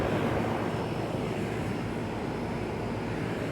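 A 2005 Nordyne heat pump with a GE fan motor runs in cooling mode at an apartment complex, giving a steady, broadband whooshing drone that holds evenly throughout, close up and alone.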